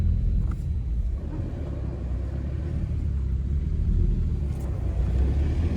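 Subaru car engine climbing uphill toward the listener, a steady low rumbling drone that holds constant throughout, with no speech.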